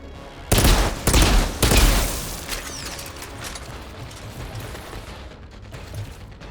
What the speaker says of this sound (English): This is a cool ass rifle. I like this one. It's a fucking burst sniper rifle.